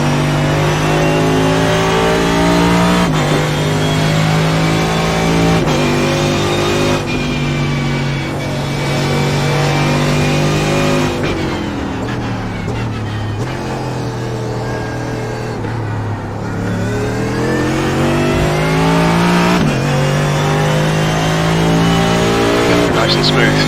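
Race car engine in the iRacing video game at Canadian Tire Motorsports Park, loud and continuous, revving up and dropping through gear changes with brief tire squeal as the car laps, with commentary voices talking over it.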